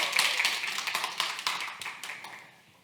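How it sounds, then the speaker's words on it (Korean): Audience clapping during a training lecture, a short run of quick sharp claps that gradually thins and fades out within three seconds. "박수 한번 부탁드립니다"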